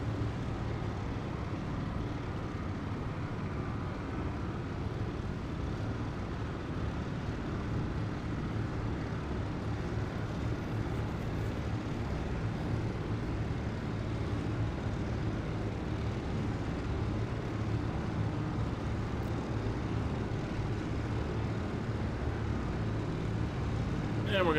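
Steady engine drone of a Douglas DC-3 taxiing toward the runway in a flight simulator game, a continuous low rumble at even loudness for the whole stretch with no talk over it.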